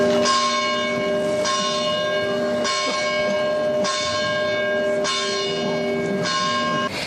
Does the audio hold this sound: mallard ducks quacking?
no